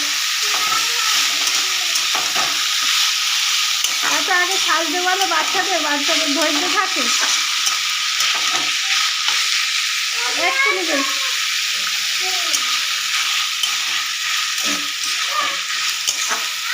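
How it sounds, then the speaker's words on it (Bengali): Boiled banana flower (mocha) sizzling steadily in a pan as it fries for mocha ghonto, stirred with repeated scraping strokes while someone talks over the cooking throughout. "মোচাটা ভালো করে ভেজে নেব।"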